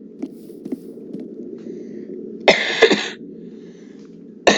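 A short burst of two or three sharp coughs midway, close to the listener, over a quiet low hum with a few faint clicks.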